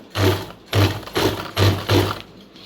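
A picot sewing machine stitches a saree fall in five quick bursts of whirring and clattering, each about a third of a second long with short gaps, close and loud.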